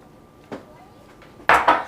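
A spatula scraping out a bowl of chunky, buttermilk-like vegan batter, one light knock followed by two quick louder scrapes, close and brief.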